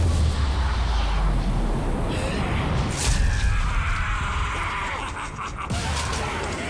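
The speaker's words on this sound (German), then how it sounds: "Machen wir das mal mit dem aufgeladenen Schuss." Charged shot fired in the video game Bulletstorm, heard as a loud, dense blast of game noise with booming impacts, a sharp burst around the middle and another near the end.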